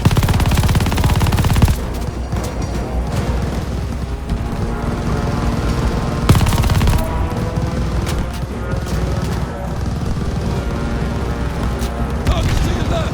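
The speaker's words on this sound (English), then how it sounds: "Use that LMG! God, keep shooting, Wade!" Sustained light machine gun fire in Call of Duty: Vanguard, loud rapid bursts running continuously with heavier blasts near the start and middle, layered under shouted voices and battle noise.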